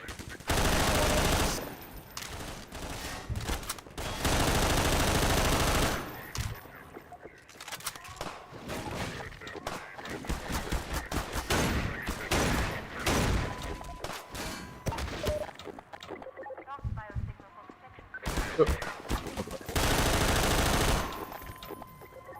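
Combine sniper and gunfire bursts in Half-Life 2, repeated loud shots and rapid volleys in clusters with quieter gaps between them, and a player talking intermittently over the game sounds.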